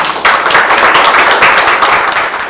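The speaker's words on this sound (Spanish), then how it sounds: "Con un fuerte aplauso" A crowd applauding steadily for a speaker introduced at a history lecture, a dense wash of many hands clapping at once, sustained and fairly loud throughout.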